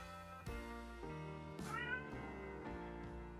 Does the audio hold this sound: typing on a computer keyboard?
no